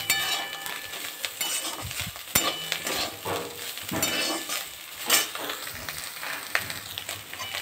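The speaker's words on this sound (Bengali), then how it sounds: "মাছগুলো ভাজা হয়ে গেছে" Shrimp fry in a pan of hot oil for a taro-stem curry, giving a steady crackling sizzle with scraping stir strokes and occasional clinks of a utensil, and no voices.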